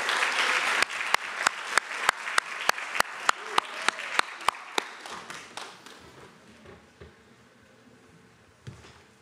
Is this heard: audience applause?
yes